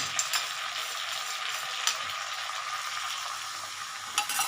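Cauliflower and potato curry frying in a pan with a steady soft sizzle, occasional scrape of stirring and small clatters, no voices.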